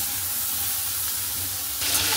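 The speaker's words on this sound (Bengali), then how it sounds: "এই যে তেলে দিয়ে দিলাম পটলগুলো, এগুলো ভাজা হোক একটু" Pieces of pointed gourd fry in hot oil in a pan, giving a steady, dense sizzle that holds close and even, rising slightly louder near the end, with no speech over it.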